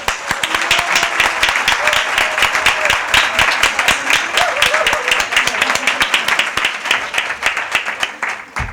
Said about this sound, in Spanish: Així que un aplaudiment per a totes vosaltres.